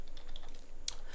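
Typing a command on a computer keyboard, a few quick light key clicks up close over faint steady background noise.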